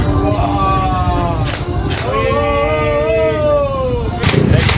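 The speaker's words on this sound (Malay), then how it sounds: "Ini apa benda tembak daripada motor ni?" A motorcycle exhaust backfires with sharp bangs like gunshots, heard loud and close over a dense, noisy crowd with several voices talking throughout.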